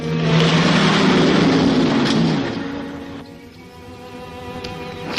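A car engine approaches with a loud, rising rumble that peaks and then fades away over a few seconds, with no voices.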